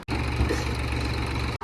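A tractor engine runs steadily nearby, a low continuous rumble with no voices, cut short at the end.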